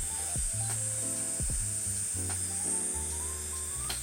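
An electric nail drill spins at around 5,000 RPM on natural nails, with a thin steady whine and repeated short grinding bursts as the bit touches down and lifts off, close and fairly quiet.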